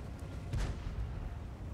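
A single heavy tank cannon boom in World of Tanks hits partway through, its low rumble rolling out over steady background noise from the game battle.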